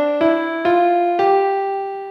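A keyboard sounds the notes of a perfect fifth interval in three evenly spaced strikes, each clean tone sustaining and overlapping into the next before slowly fading.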